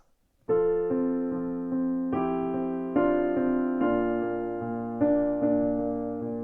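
A hymn played on a keyboard, the left hand keeping a chord going while adding a steady rolling eighth-note pattern beneath sustained upper chords that change every bar or so, with no talking.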